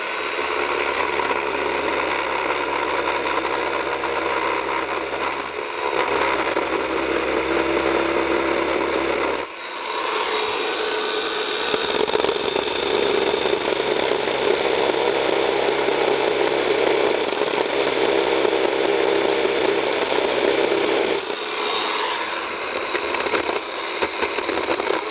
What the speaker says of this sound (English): use the chainsaw to cut through this so that I don't start peeling off massive pieces